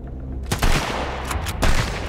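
Gunfire in the survival game Sunkenland comes in a few quick, loud bursts within about two seconds. The rough, crackling reports overlap into dense volleys.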